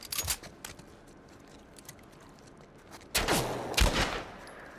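Video game gunfire in bursts: a quick flurry of shots at the start, a quieter stretch with scattered distant pops, then a louder rapid volley near the end, with no talking.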